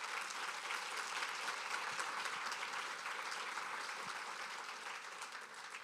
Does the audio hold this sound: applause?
yes